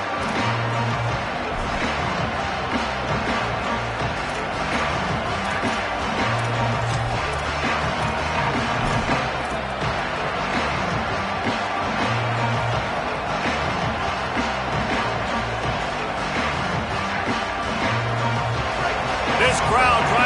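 Stadium crowd at a college football rivalry game roars in a steady, dense wall of noise throughout, loud and continuous beneath play-by-play commentary.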